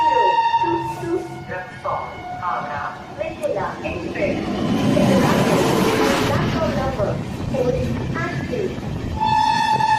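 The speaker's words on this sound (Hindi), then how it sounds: "सामने जो लगा दरभंगा कोलकाता एक्सप्रेस" Darbhanga Kolkata Express passenger train standing close by, with a loud horn blaring in sustained tones over a heavy rumble of rail noise, and voices talking underneath.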